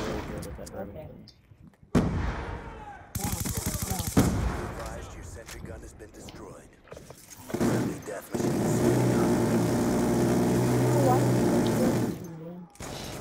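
Gunfire from the video game Black Ops II, with bursts of automatic fire and heavier shots in dense clusters, a long sustained stretch near the end, loud and close amid game noise, with a player talking at times.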